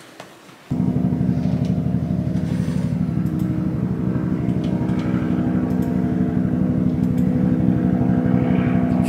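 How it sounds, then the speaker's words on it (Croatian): A helicopter passes overhead, its rotor and engine roar starting abruptly and holding steady and loud with a rhythmic thumping throughout, no voices. "I kakav je to helikopter?"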